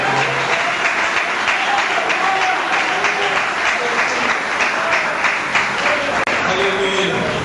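Sustained applause from a church congregation, steady and fairly loud throughout, with a dense wash of clapping and no pauses.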